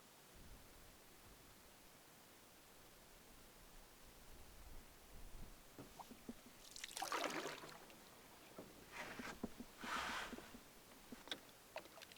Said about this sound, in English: I'm just paddling along here